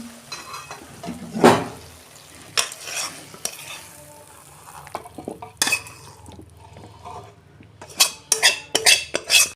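Cooked spicy okra curry tipped out of a pan, with scraping of a spoon against metal and clattering of the pan, brief bursts of scraping and knocks scattered through the clip and a faint sizzle underneath.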